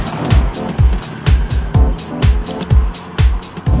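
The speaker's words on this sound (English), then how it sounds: "the first thing I'm struck by, Nathan, is just how loud this is" Cabin noise inside a 2013 Honda Civic while driving, a steady loud road and engine roar with a rhythmic low thumping repeating about twice a second, close and continuous.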